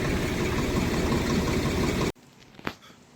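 A tractor engine idles close by on a rice-farming holding with a steady, rumbling drone, then cuts off abruptly partway through, leaving near silence broken by one brief knock.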